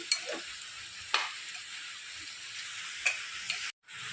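Coriander leaves stirred into a finished Bihari-style mutton curry, a faint steady sizzle in the pan broken by a few sharp scraping clicks of the spoon, with no voices.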